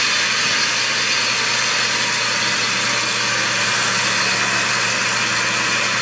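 A Caterpillar C7 7.2-liter six-cylinder diesel, 190 horsepower, idles steadily and loudly up close, a continuous dense rumble with no pauses.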